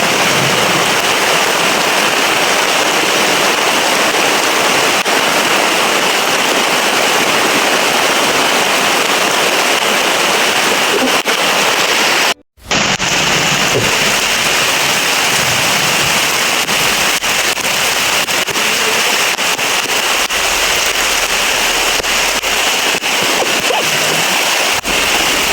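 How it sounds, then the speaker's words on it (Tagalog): Heavy storm rain pours down in a loud, dense, unbroken roar that fills the whole scene, with a brief dropout midway and scattered sharp splatters on top. "Ulan naman ulan nga."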